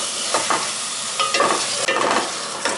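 Fresh fenugreek leaves fry in masala for palak chicken, a continuous close sizzle broken by several scraping stirs of a spoon against the pan.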